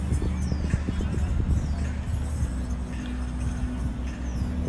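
Horse hooves clip-clop in a steady walking rhythm at a horse show, up close over a busy low background hum, while someone speaks over a loudspeaker.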